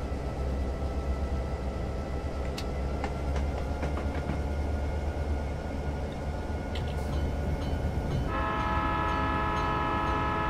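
A train of reefer cars rolls past in Train Simulator Classic, the 1950s Great Northern Empire Builder route, with a continuous low rumble, scattered sharp clicks and squeals, and a sustained horn-like tone entering near the end.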